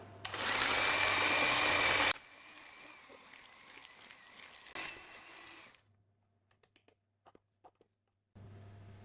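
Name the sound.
electric mixer whisking egg yolks with sugar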